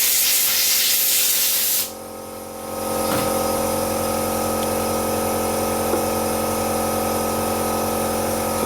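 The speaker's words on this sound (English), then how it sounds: "I'll just take these over and dry them off with the air compressor now" A workshop air compressor nozzle blasts compressed air to dry parts during a vintage GMF bench grinder restoration: a loud hissing jet that cuts off abruptly, followed by a steady mechanical hum that swells back up.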